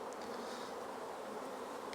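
Honey bees hum steadily at an open hive while frames and boxes are worked, a soft, continuous buzzing drone with no talking.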